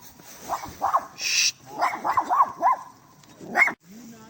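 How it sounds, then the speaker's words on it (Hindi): Dog barking on a street in Ilmenau, Germany: a run of sharp, repeated barks at moderate distance, close together in short bursts over faint outdoor background. "ये देखो डॉगी, डॉगी बार्क कर रहा है"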